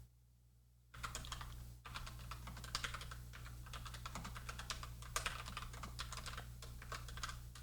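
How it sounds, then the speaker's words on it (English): Typing on a computer keyboard that has no wrist rest: after a quiet moment, close keystrokes clatter in a steady, busy stream that goes on without pause. "I'm not very fast typer."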